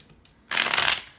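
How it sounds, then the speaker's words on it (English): A deck of tarot cards gets a single quick riffle shuffle, a close, bright burst of whirring card flutter after a short quiet moment. "One more shuffle."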